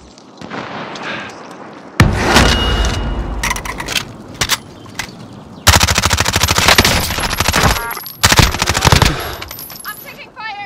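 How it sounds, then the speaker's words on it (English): Video game gunfire in a battle royale match, with loud bursts of rapid automatic fire and single shots arriving close, in clusters, alongside clatter and game noise. "I'm taking fire!"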